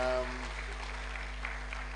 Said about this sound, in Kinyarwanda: Can we add a big hand clap for God?